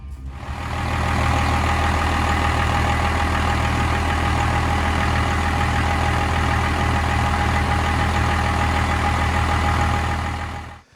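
A truck engine from a fleet vehicle catches and settles into a steady, loud, low idle that runs on evenly, with a deep rumble and a constant drone.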